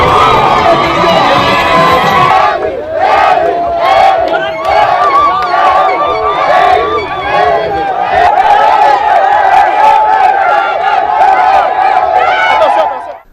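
Party supporters at a political rally in Chad cheer and shout for their founding president, a loud, continuous roar of a large crowd with rhythmic chanting bursts and whistles throughout.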